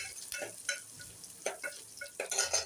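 Garlic and curry leaves frying in hot oil for masoor amti, a Marathi lentil dal, give off an uneven crackling sizzle with occasional stirring scrapes, moderately quiet and with no voices.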